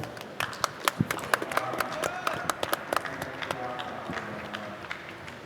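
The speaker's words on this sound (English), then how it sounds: "Give him a round of applause, everybody." Scattered applause from an audience at ETHDenver for a People's Choice winner on a conference stage, individual sharp claps standing out over a thinner spread of clapping, moderately quiet and fading.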